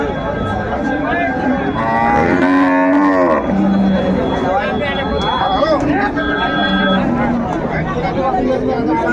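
Cows moo in long, low calls amid a busy crowd at a cattle market selling cows with calves, with people chattering and talking throughout.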